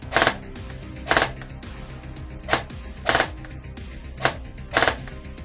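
Airsoft AUG/P90 fitted with a Perun trigger, firing short bursts: five or six sharp, close bursts of rapid mechanical cracks, spaced about a second apart.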